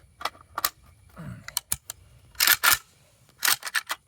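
Zastava ZPAP AK rifle bolt locking back on an empty 5.56 magazine, a series of sharp metallic clacks and rattles close by, with a few quiet handling noises between them.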